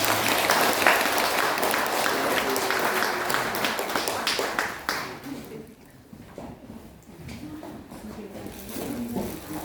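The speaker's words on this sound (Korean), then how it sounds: "박수하겠습니다" A church congregation on Children's Sunday claps together after a bow, a loud dense round of applause that thins and fades midway, followed by a few scattered taps and quieter room sounds.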